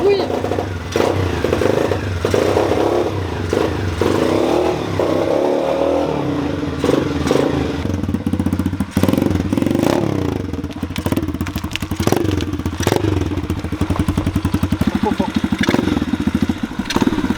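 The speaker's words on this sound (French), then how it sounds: "On va la démarrer là, on va voir un peu même les bruits que ça fait et tout." SMX 125cc RFZ dirt bike engine running close by, idling with a rough clatter and then revving in repeated bursts, while people talk excitedly over it.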